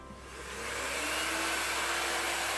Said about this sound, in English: now we're about to blow dry. So I have my blow dryer